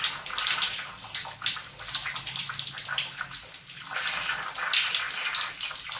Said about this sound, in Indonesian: kemudian bilas tangan,